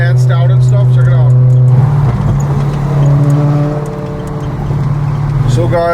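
A stanced Maruti Swift idles and revs at an abandoned airstrip, its loud, steady engine drone running throughout, with a person talking over it.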